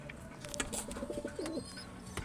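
Pigeons coo close by, one clear rolling coo standing out over a soft background of other birds and faint outdoor noise.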